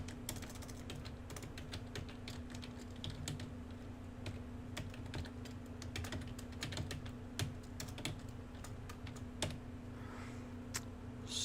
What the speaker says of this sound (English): Now it's just a matter of cold, hard, finger cramping, crushing, destroying, typing.